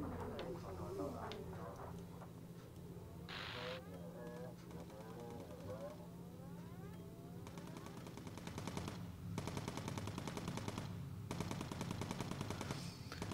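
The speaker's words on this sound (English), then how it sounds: "the ship is taking fire from enemy guns along the coast" Enemy coastal gun emplacements fire on a WW2 bomber in the video game Bomber Crew, rapid rattling bursts of gunfire growing denser and louder toward the end over a steady engine drone and game music.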